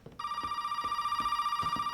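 A telephone rings in the Resident Evil 7 game, a steady electronic bell ringing continuously and loudly with a faint repeating pulse underneath, with no voices over it.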